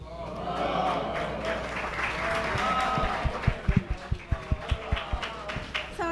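Audience at a Black Lives Matter faith panel event applauding as a speaker comes to the stage, with crowd chatter and voices over a steady wash of clapping, rhythmic thumps building toward the end.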